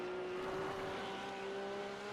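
A Porsche Cup race car in a sim racing league round at Summit Point: a faint, steady engine drone with a sustained tonal whine, quiet and even throughout.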